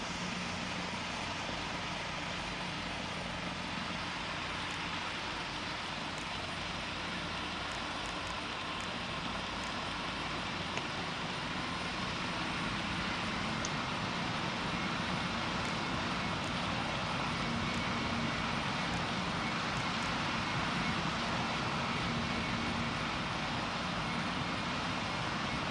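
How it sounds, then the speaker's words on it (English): A fixed-wing airliner in the Roblox game Pilot Training Flight Simulator powers up for takeoff on a runway, giving a steady, loud, broadband engine roar that holds evenly for the whole stretch with no talking. "Azul 1471, you are cleared for takeoff"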